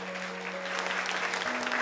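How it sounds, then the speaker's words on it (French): Audience at a singing contest show applauding the accompanying musicians, a brief steady patter of clapping over a sustained tonal hum from the stage. "je vous demande d'applaudir les musiciens qui accompagneront nos candidats ce soir"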